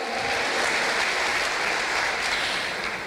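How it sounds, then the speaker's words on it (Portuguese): Sustained, steady applause fills the hall for the São Gabriel group leaders at a June 2014 graduation ceremony, dense and even from start to finish with no voices rising above it. "Com uma salva de palmas"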